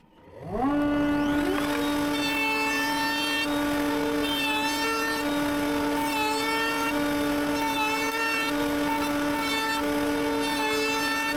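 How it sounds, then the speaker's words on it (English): A router rounding over wooden edges spins up within the first second into a loud, steady high-pitched whine with a rough cutting edge, continuing unbroken close by. "I'm content with rounding off the top and bottom edges with the router."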